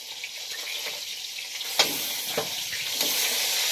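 Salted fish frying in very hot oil in a pan, a dense, continuous close sizzle with a few brief louder spits and pops, no talking.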